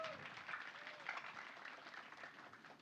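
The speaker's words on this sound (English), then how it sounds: "Can we get a big round of applause, everyone?" Audience applause from a speech contest crowd, a soft, steady wash of clapping heard at a distance for a few seconds.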